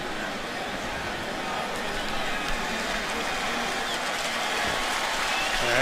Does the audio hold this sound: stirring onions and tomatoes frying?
no